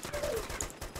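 Gunfire in the video game ArmA 2 comes as a short burst of rapid shots, moderately loud over steady game background noise, with a brief tonal sound in the middle.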